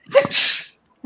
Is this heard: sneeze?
yes